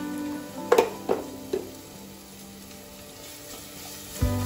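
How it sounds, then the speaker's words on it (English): Onions sautéing with salt in a kadai, a soft steady sizzle broken by a few sharp clinks and scrapes of stirring near the start and one more knock near the end. "So that's our onions getting sauteed."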